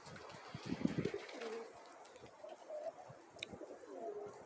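Pigeons coo softly in a small flock, low throaty calls repeating irregularly with faint rustling and a brief chirp, heard close but quiet in a calm outdoor setting.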